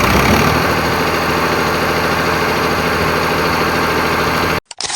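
A second-hand tractor engine runs at a loud, steady idle with a dense low rumble and vibration throughout, cutting out abruptly near the very end.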